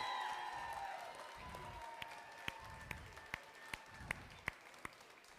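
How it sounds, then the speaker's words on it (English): Applause for a glassblowing team at a studio demonstration, a moderate crowd clapping that fades into a few sparse, sharp individual claps near the end, fairly quiet overall. "one more round of applause"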